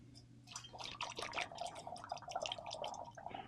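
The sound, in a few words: pouring liquid into a funnel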